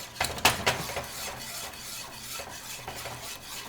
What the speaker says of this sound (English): Add some, then whisk away.